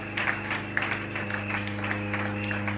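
A church congregation applauds and cheers in acclamation of the Lord at a closing worship service, a steady rhythmic clapping over sustained musical tones and crowd noise.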